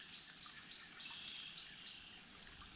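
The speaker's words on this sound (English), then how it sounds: "I don't know if you can hear it over the fire, but the water's going through there." Water trickling and gurgling through a culvert past a beaver dam, a steady faint outdoor wash with soft high splashing and no talk.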